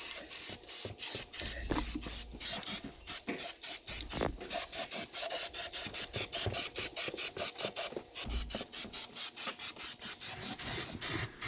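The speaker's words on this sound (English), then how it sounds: "right now is spraying on that Rust-Oleum underized coating" Rust-Oleum undercoating sprayed from a can in a vehicle engine bay, a rapid run of short hissing bursts with brief pauses between them, close and fairly quiet with no talking.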